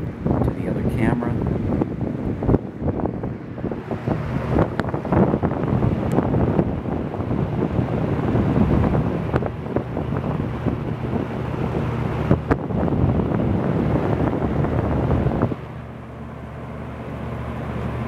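A 1984-5 Lakewood P223 second-generation box fan runs on high, giving a steady whooshing airflow with a low hum, then quieting abruptly near the end as it is switched down.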